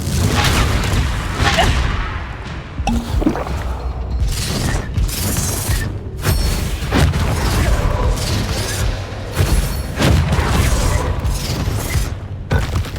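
Bombarda and Confringo explosion spells cast in the Hogwarts Legacy video game, a dense run of loud booming blasts and whooshes with shattering debris, continuous combat with no pause.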